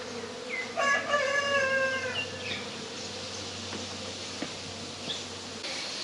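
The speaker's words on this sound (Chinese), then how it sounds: "听到蜜蜂嗡嗡的声音" Bees buzzing steadily around an old abandoned house in a rural village, a faint continuous drone under outdoor ambience, with a rooster crowing near the start and scattered distant sounds.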